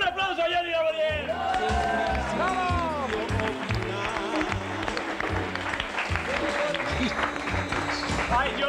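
Audience applause and cheering in a 1996 Mexican TV comedy studio, loud and continuous, mixed with music and shouted voices over a busy crowd throughout.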